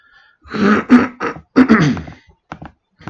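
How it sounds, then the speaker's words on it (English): Someone clears their throat several times in close, rough bursts, followed by a few faint clicks. "I try to subtly clear my throat away from the microphone"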